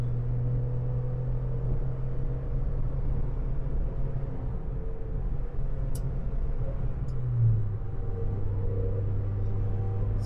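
A Volkswagen Polo hums along on the road, a steady low engine drone and tyre rumble heard from inside the cabin, with a brief rise in pitch as it picks up speed.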